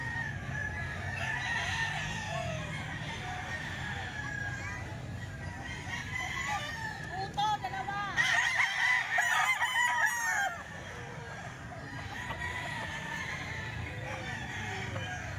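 A ten-month-old Pumpkin Sweater gamefowl rooster crows loud and close at a rooster market. Around it sit steady farmyard clucking and background noise, and one strong crow stands out midway.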